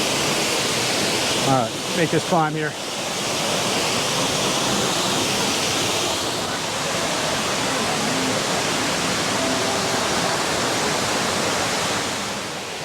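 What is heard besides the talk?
waterfall at Erie Falls, Ricketts Glen State Park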